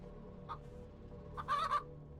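Short chicken clucks from the game Chicken Dungeon 3D, one brief cluck followed by a quick burst of two or three louder clucks, faint over a quiet low hum.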